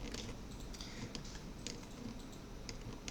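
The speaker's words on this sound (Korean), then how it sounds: "탭키 눌러서 키보드 탭 눌러서" A Tab key and other keys are pressed on a computer keyboard, several soft, quick clicks in an irregular typing rhythm, faint against a low background hiss.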